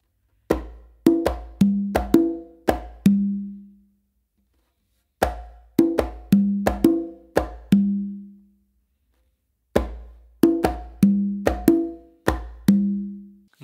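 A complete merengue exercise on congas and tumba: quick rhythmic phrases of palm slaps and resonant open tones, played in three bursts separated by short pauses, close and loud with no voices.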